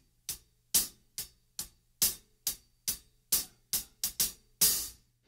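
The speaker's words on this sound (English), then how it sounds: "He does a pretty cool little lick on the hi-hats during the verse," Drum lick on the hi-hats outlining triplets in the verse of a song, about a dozen crisp separate hits in an uneven pattern, close and solo with no talking.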